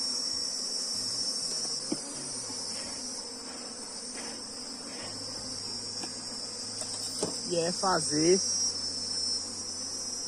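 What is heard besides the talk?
bees buzzing around a beehive box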